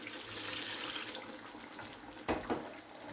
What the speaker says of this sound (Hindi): मैं इसमें 1 गिलास पानी का डाल रही हूँ।